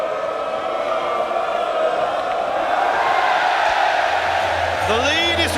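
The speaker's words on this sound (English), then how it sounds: "Tell you what, this sounds good for Europe, this cheer." Spectators at a Mosconi Cup pool match cheer loudly for Europe. The roar is sustained and energetic, with whoops rising over it, and commentators speak underneath.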